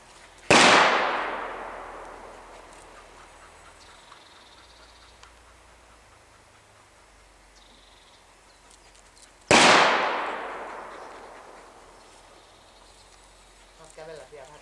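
Two sharp gunshots fired outdoors during a dog temperament test, each a loud crack with a long echoing decay, spaced several seconds apart, with faint background noise in between.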